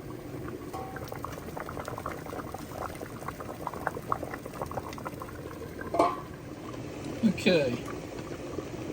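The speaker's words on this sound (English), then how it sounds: "Get a rolling boiling going there." Pears cooking at a rolling boil in a pot for preserves, a steady bubbling and simmering that runs throughout, with a couple of louder clinks or stirs near the end and brief speech over it.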